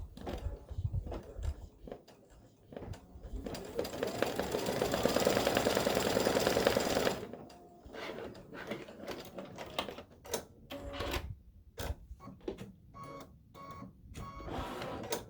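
An embroidery machine stitches a brim with a continuous buzzing, whirring run lasting several seconds. Brisk, irregular clicks and taps follow it.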